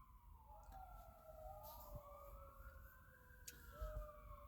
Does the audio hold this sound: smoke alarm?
no